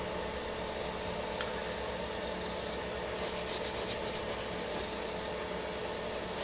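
Hand sanding a replacement bass guitar neck with a small rolled square of micro mesh abrasive, a steady, soft, continuous rubbing hiss with faint rhythmic strokes, close and quiet.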